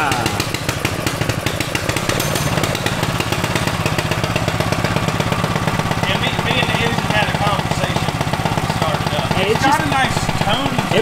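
A Tillotson 212 small engine on a Rascal mini bike idles with a steady, loud putter from a muffled exhaust, running throughout with people talking over it.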